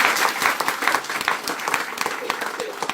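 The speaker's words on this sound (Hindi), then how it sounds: "वो बच्ची इतनी ज्यादा ताली बजा रही है" Applause fills the room at a crowded religious gathering, with dense, fast clapping from many hands going on without a break and a speaking voice over it.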